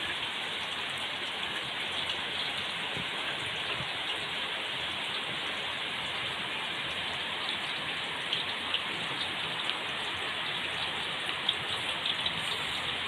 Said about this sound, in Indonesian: hujannya masih deras